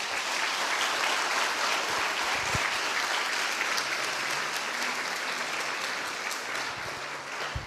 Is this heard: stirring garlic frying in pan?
no